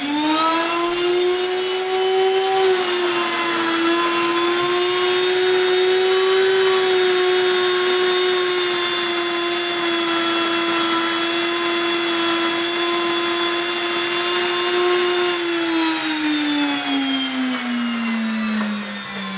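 Electric wheat grinder milling whole wheat into flour on a fine setting, a loud steady motor whine with a high mechanical hum running continuously, the pitch dipping slightly near the end as it winds down.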